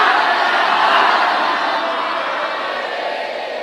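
A large audience at a live Hindu religious discourse (Shiv Mahapuran katha) claps loudly and continuously, a dense wash of applause that fades slightly toward the end.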